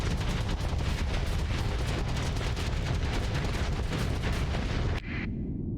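Swarms of splitting missiles from a carrier fleet slam into ships during a Starsector space battle, a dense continuous barrage of rapid impacts and blasts that cuts off abruptly near the end, leaving a brief fading tone.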